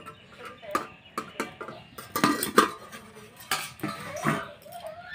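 A cooking pot's lid is lifted off after steaming kochur loti paturi with dried fish, giving a few sharp metallic clinks and rattles with soft handling noises between them, close by and fairly quiet.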